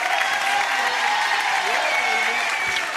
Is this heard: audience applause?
yes